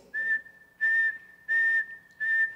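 Four steady, high, pure whistled notes, evenly spaced with short gaps, clear and close against a quiet background.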